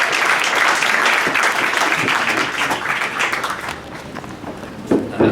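Applause from a pub audience welcoming Anthony Albanese to a Politics in the Pub event, sustained dense clapping for several seconds with a few louder claps near the end.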